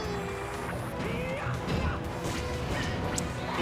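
Super Smash Bros match with Roy against Marth: a sharp smash-style crash of a back air and down smash amid dense game sounds and crowd noise, hits landing in quick succession.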